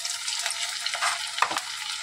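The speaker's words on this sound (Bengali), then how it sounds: "গরম গরম পকোড়া ভাজছে" Pakoras deep-frying in hot oil in a home kitchen, a steady dense crackling sizzle with small bubbling pops, close and continuous, with no voices.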